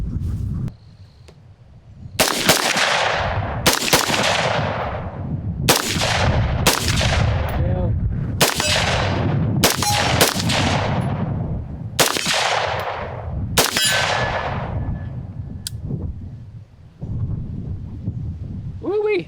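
About ten sharp, loud AR scout rifle shots ring out outdoors at a steel popper target, spaced roughly one to two seconds apart, each with a long echoing decay and no talk between them.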